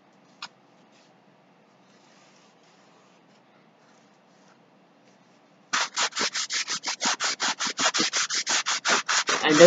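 A cardboard circle for a homemade Lazy Susan is sanded in quick, regular back-and-forth strokes that start after a long quiet stretch and stay loud and close until the end.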